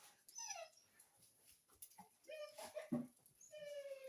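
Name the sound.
dogs whimpering to go outside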